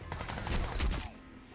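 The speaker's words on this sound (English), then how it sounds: "Incoming fire!" Rapid gunfire rattles in a dense automatic burst during Crysis 2 combat, loud and sustained for about a second before tapering off, with no talk.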